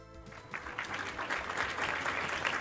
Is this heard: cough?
no